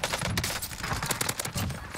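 Rapid bursts of gunfire in quick succession, automatic weapons in Call of Duty: Warzone, fairly quiet and continuous.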